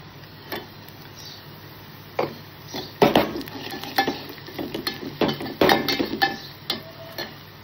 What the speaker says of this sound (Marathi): कांदा परतून घेऊया। कांदा शिजलेला आहे, त्याच्यात आपण आता हळद टाकूया।